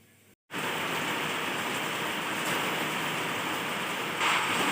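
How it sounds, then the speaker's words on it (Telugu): Steady rain falls outdoors, a continuous dense hiss that begins after a brief quiet moment and grows slightly louder near the end. No voices are heard. "వర్షం అయితే పడుతూనే ఉన్నది పాపం"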